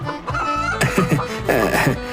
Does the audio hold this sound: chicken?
yes